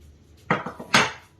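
A few metallic clinks and clatters of a frying pan and saucepan being handled nearby, two short knocks followed by a louder clang, with no voices.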